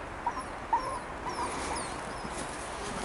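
A dog whimpers and howls thinly in the distance during an evening walk in a park, with faint wavering cries over quiet outdoor background noise.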